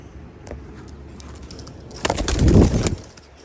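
Pakistani high-flyer Teddy pigeons in a loft, with soft cooing and rustling close by, then a brief louder burst of fluttering near the end.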